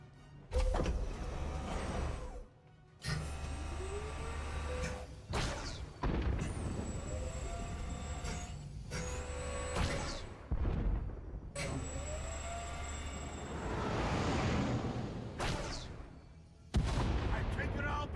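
Starship weapons in Star Wars: The Old Republic fire in repeated heavy volleys separated by short gaps, booming bursts and whining tones alternating over a low engine hum, with voices speaking between salvos.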